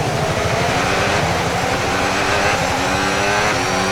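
Formula 1 cars in the F1 video game hold a loud, high engine whine throughout, with rising pitch and other cars droning close by.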